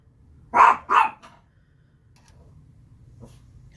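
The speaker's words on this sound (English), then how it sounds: "Oh, my little dog's on patrol. She can hear somebody outside." A small dog gives two sharp, close barks in quick succession indoors, reacting to someone outside, followed by near silence.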